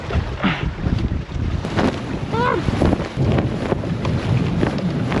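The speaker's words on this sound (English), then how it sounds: "There's literally like 3-4 foot waves coming through right now." A small boat sways at sea in 3-4 foot waves. Water sloshes and wind rushes across the microphone steadily and close up, with brief creaks and knocks from the hull.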